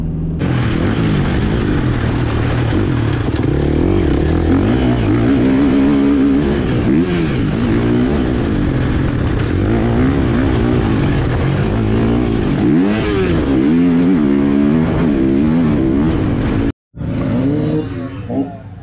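A loud motocross motorcycle revs and drones continuously on a wet track, pitch rising and falling as it accelerates and slows, with a brief cut near the end.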